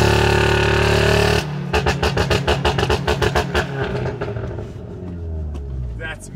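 Engine of a 7R being revved hard in sharp, rapid bursts, a loud roaring drone cutting into a stuttering series of quick throttle blips, with people talking over it.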